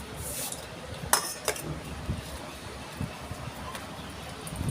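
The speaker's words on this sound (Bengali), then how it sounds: "এই যে দেখো আমি এখন ঝোল নিলাম, নিয়ে ভাত মাখছি" Curry is ladled onto a plate and rice is mixed in by hand, giving soft wet squelches with a few sharp clinks of utensils against the plate, close and fairly quiet.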